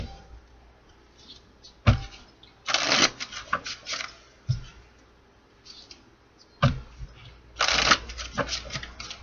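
A deck of tarot cards is riffle-shuffled several times, each shuffle a quick, crisp flurry of flicking card edges up close, separated by pauses and soft handling noises, with no voices.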